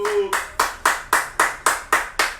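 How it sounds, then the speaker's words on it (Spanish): Guests at an interview event clap to welcome a guest in a slow, even rhythm of about eight evenly spaced, reverberant claps, close and fairly loud, with a brief voice at the start. "pido un fuerte aplauso"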